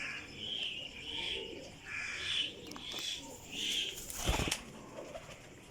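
Golden and Sialkoti flying pigeons coo in a loft, soft repeated throaty calls rising and falling in short phrases, with a brief flutter of wings near the end and faint background noise.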